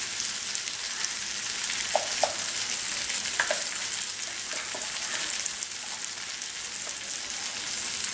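Chili, coriander and turmeric powders sizzle and fry in a pan while being stirred for Tamil vatha kulambu, a steady soft crackle with a few faint spoon scrapes, no talking.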